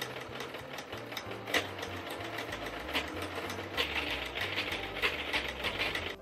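Sewing machine running a steady zigzag stitch through holey mesh fabric, a continuous mechanical whir with rhythmic needle chatter, close and fairly loud, with no talking.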